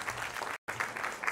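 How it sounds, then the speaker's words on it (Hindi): An audience at an award ceremony applauds to welcome a guest, a steady wash of many hands clapping, broken by a brief silent gap before resuming. "तालियां बजाकर आप शर्मा जी का स्वागत करें"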